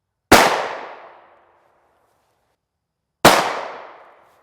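Two sharp, loud gunshots from Hornady Black 40 grain VMAX rounds fired at an IOTV NIJ Level IIIA armor panel, about three seconds apart, each a crisp crack that rings out and fades over about a second.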